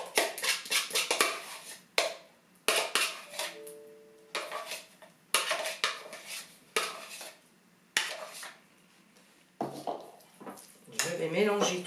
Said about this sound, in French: Je vais mélanger tout ça